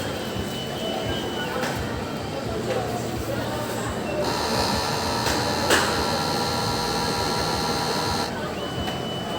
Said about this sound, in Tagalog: Clean head naman po natin.